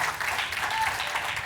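A church congregation claps briefly after a call to praise, a dense patter of hands that fills the room at moderate loudness with no voices over it.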